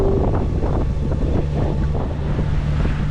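Steady wind buffets a sailboat motoring straight into a 13 to 14 knot apparent breeze at about 6 knots, near and constant, with a low engine drone and water beneath, no talk.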